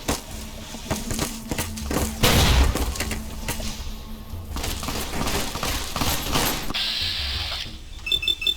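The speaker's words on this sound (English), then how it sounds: "And I'm drawing way too much gunfire" Gunfire in the post-apocalyptic shooter Fallout: New Vegas, with loud bursts of game combat noise, sharp impacts and mechanical clatter layered over a busy, continuous mix of effects.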